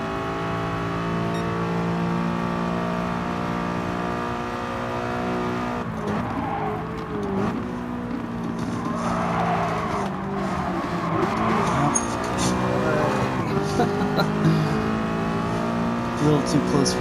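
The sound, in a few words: race cars braking and driving in Gran Turismo Sport video game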